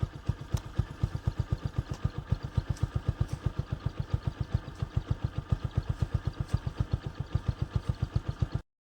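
A motorcycle engine runs at a steady, even rhythm of low thumping pulses, close and continuous, with no voices over it.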